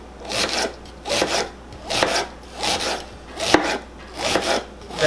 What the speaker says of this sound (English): I'm just going to slice up my onion. I'm going to thinly slice it.